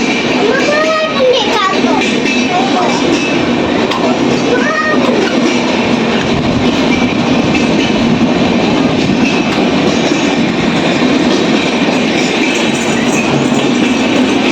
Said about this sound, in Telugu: అది passenger express train, super fast train